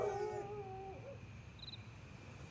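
A dog howls in a long, wavering, tonal cry lasting about a second, moderately loud over low background rumble, then fades out.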